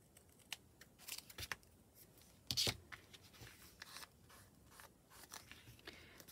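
Scissors snip through a paper stamp card for a junk journal specimen card, giving a few sharp, quiet cuts among soft handling clicks in a still room.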